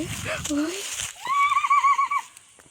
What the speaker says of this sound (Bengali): এদিকে হর্সের আওয়াজ করছে।